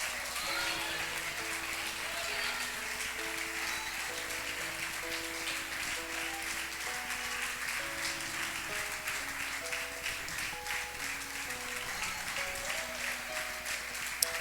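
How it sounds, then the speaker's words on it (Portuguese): Church congregation applauding through a worship service, with steady sustained clapping under loud organ or keyboard music and sung chords. "Enquanto você aplaude, você glorifica Ele"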